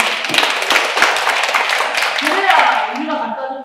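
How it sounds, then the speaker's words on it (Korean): Dense, steady applause from an audience at an onion growers' education session held at the Iksan horticultural cooperative in Korea, filling the room for several seconds, with voices rising toward the end. "네, 큰 박수 한번 해주세요."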